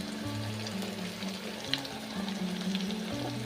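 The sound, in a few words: ground paste frying in oil for palak chana masala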